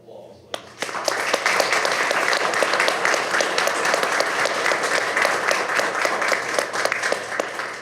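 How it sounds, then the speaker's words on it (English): A council chamber audience applauds city employees, a steady round of clapping from many hands that starts abruptly and holds at full strength throughout. "give all these employees a round of applause, please"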